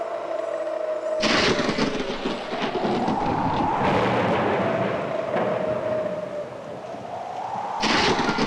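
Thunder from a sudden, unseasonal storm rumbles in long rolling waves, with loud crashes near the start and end and a steady roar between, heard alone without talk.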